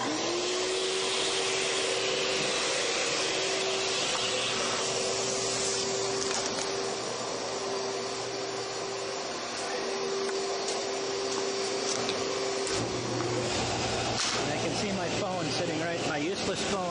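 A vacuum cleaner runs with a loud, steady motor drone and a constant whine, its tone shifting slightly near the end, while a person talks over it.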